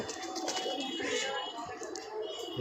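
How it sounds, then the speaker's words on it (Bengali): Many racing pigeons coo together at a busy rooftop pigeon market, a dense, continuous cooing bed with faint crowd murmur underneath. "দেখতে পারতেছেন মাশাআল্লাহ অনেক অনেক কবুতর।"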